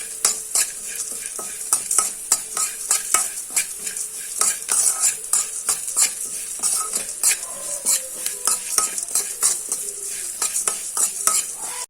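Masala and curry leaves fry in a pan on a medium flame under steady sizzling, while a spoon stirs and scrapes against the metal in quick repeated strokes, close and continuous, with no talking.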